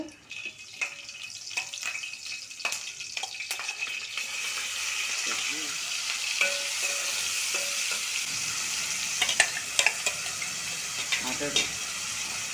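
Green chillies sizzling and frying in hot oil for chicken curry, a steady crackle with occasional stirring clinks and scrapes from a utensil.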